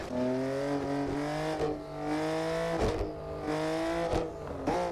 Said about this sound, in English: I want to actually hear the car while I'm in third